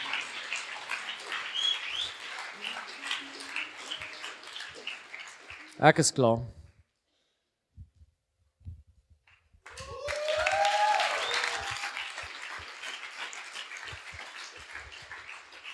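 A church audience at a sermon session claps in two bursts of dense, crackly hand-clapping separated by a brief silence, with a voice talking over part of it.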